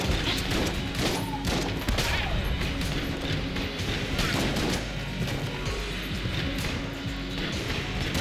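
Shotgun blasts from Enter the Gungeon boom repeatedly amid a busy, loud barrage of in-game impacts, crashes and other gunfire.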